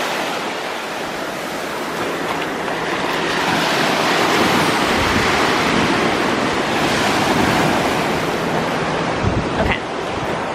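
Ocean waves wash steadily onto an outdoor shore, a broad continuous roar of surf that swells louder in the middle, with some wind buffeting the microphone and no voices.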